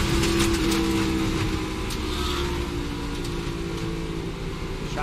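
NASCAR race car engine droning as it slows after a possible brake rotor failure at Pocono, a loud steady mechanical hum that stays up close throughout with no clear pauses.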